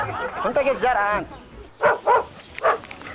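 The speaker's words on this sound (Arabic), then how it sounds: "هذا الكلب." A dog in Yemen gives a few short, sharp barks in quick succession, heard after someone speaks in Arabic.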